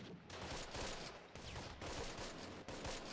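Gunfire from Close Combat: Wacht Am Rhein, a World War II strategy game, rolls through as repeated bursts of volleyed shots with short gaps between them, fairly quiet and without talk.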